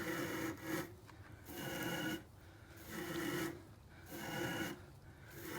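Flax fiber combed through a simple homemade hackle of galvanized nails, giving repeated raspy, scratchy strokes in bursts of about a second with short pauses between, close and fairly quiet.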